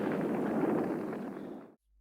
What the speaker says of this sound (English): That's a bazooka.